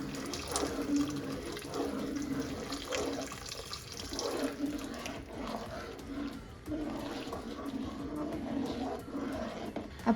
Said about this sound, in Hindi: अब इसको आहिस्ता आहिस्ता से चम्मच की मदद से हिलाते हुए इसमें शामिल करेंगे।